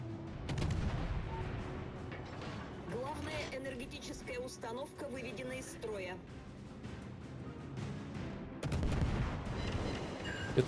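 Naval gunfire in World of Warships, an enemy ship shooting high-explosive shells, booming repeatedly through a dense battle mix under steady talk, with a heavier burst of blasts near the end.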